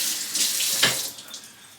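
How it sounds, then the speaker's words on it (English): Water running steadily from a tap into a sink during handwashing, a close, continuous splashing hiss lasting under two seconds with a brief extra splash partway through. "I gotta wash my hands."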